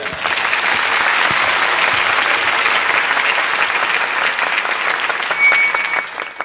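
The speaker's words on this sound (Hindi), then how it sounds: "तालियां।" A large audience bursts into sustained, dense applause before a poetry recital, the clapping loud and continuous, then thinning slightly at the end.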